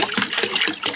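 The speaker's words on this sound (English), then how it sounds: "this is a 5-gallon yellow bucket that I'm filling with" Water gushes steadily into a 5-gallon yellow bucket in a bathroom, a continuous close, bright splashing rush with no pauses and no voices.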